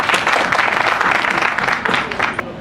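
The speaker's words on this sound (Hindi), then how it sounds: "इनके लिए एक बार आप लोग ताली बजाइए।" A crowd applauds loudly and steadily at a gathering of digital creators in Patna, a brief dense burst of clapping.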